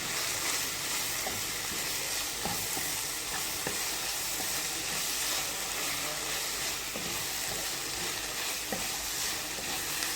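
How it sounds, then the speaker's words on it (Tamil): Spiced masala for a crispy wheat-flour snack sizzles steadily in a pan while being stirred, a continuous close frying hiss with occasional scraping taps and no talking. "சேர்த்துட்டு இதை நல்லா மிக்ஸ் பண்ணிக்கலாம்"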